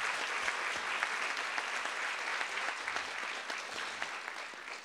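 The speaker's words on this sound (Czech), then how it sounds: "Takže první takový spontánní potlesk, až frenetický, může být tady domácím" Sustained applause from a crowd at a talk in Brno, dense and even throughout, with no voices standing out.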